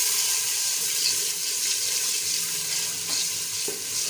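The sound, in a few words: stirring ginger and green chilli into frying onions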